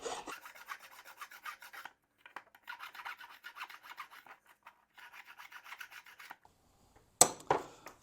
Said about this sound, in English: I'm just kind of deburring the holes, the file here, both sides